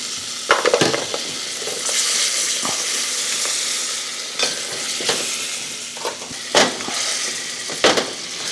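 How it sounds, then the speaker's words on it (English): Chocolate pieces melt in a pan under a soft continuous sizzle, punctuated by repeated sharp scrapes and taps of stirring. "I'll throw the chocolate in, a few pieces at a time until we can melt it up well."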